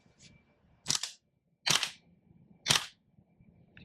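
Airsoft secondary pistol fired three times at roughly one-second intervals, each shot a sharp, close snap standing alone against near silence.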